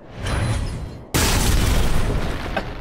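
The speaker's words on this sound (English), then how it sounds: "Were you by that explosion or shot or something?" A Roblox explosion: a sudden loud boom that cuts in abruptly and is followed by a sustained, heavy rumbling roar.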